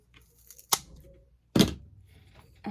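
Scissors snip through craft material for a personalized party centerpiece in two crisp, close cuts separated by a quiet pause, with a third starting at the very end.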